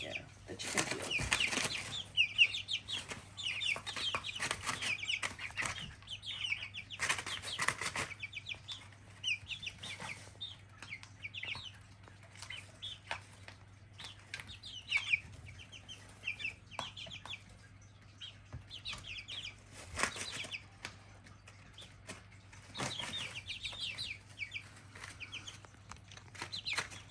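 Backyard chickens clucking and calling in repeated bursts throughout, fairly close, with wing flaps and a steady low hum underneath.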